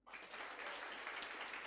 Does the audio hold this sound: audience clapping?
yes